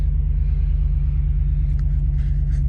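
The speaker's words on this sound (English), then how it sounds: "As you see the cars driving by." Steady, loud highway traffic roars past on a snowy winter night, a continuous low rumble with a few brighter swishes from passing cars near the end.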